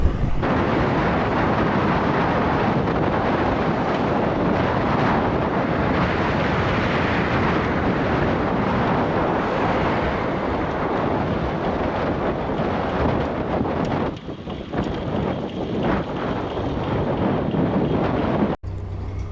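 Strong wind roars steadily against the microphone while cycling a road in Namibia toward Windhoek, a loud continuous buffeting rumble that eases briefly near the end.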